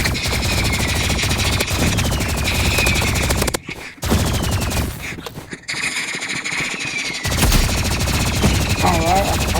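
Energy pistols fire in a video game in rapid spammed bursts with brief gaps, mixed with game effects and occasional squeals.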